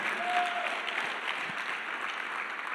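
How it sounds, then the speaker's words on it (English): An audience applauds continuously at a motivational speaking event, a dense, steady wash of clapping that holds evenly throughout. "All of us should be applauding that."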